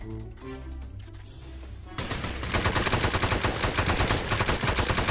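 Rapid automatic gunfire erupts in the Roblox game Military Tycoon, a loud continuous stream of shots after a quieter stretch of game music and sound, close and unbroken to the end.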